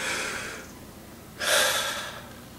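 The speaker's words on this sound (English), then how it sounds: "There are relaxation techniques, like controlling your breathing, like just do this right now." Slow, deep relaxation breathing: a long airy exhale fading out, a pause, then a strong audible inhale, close and alone with no talking.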